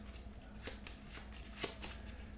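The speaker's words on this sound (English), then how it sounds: "we're going to randomly shuffle these up" A stack of level 1 cards from the Kingsport Festival board game being shuffled by hand, a steady papery riffling with several sharper snaps, close and alone with no talk.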